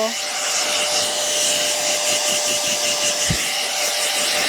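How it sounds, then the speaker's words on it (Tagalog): Hair dryer blowing on hair during a home rebonding treatment with L'Oréal products, a steady loud whooshing roar running unbroken through the whole stretch, close up. "Blower ko muna siya."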